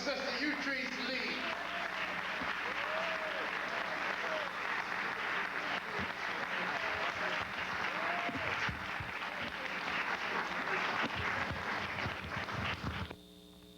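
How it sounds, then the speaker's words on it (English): An audience at a talk applauds warmly for the speaker, a continuous crackle of clapping with a low hum underneath and some voices mixed in, fading out at the end. "let us all again give a warm round of applause for our sister"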